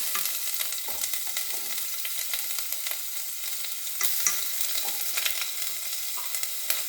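Cinnamon, bay leaf and ginger garlic paste frying in a pan, a steady close sizzle with crackling pops and occasional scraping stirs, continuous and fairly soft with no talking.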